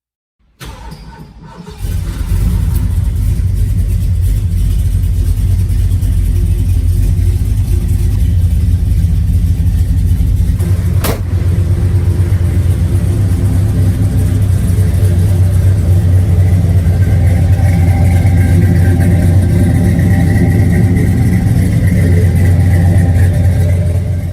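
A 1970 Ford Torino Cobra Jet muscle car engine roars loud and close, starting up and holding a deep, steady rumble with a slight rise in revs.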